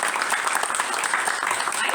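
An audience at a book event breaks into brief, dense applause, a steady wash of many hands clapping throughout with no talking over it.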